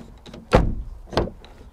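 Driver's door of a Lifan X70 crossover swung shut, giving one solid close followed by a second lighter thud, fairly near, with no talk.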